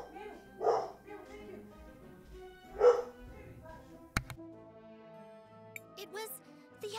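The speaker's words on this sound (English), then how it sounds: "Oh, upset dog." An upset dog in the CrisTales video game lets out two distinct barks a couple of seconds apart, mixed in with game music and sound effects.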